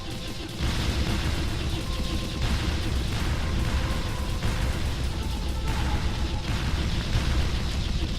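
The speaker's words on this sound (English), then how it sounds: "Nice explosions, good sound design, makes this very satisfying" Continuous dense rumbling explosions from units being destroyed in the Strike Tactics strategy game, a loud sustained wash of blasts with no clear gaps, starting after a brief quiet moment.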